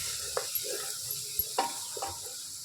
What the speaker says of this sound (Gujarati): હવે આપણે તેને હલાવી લઈશું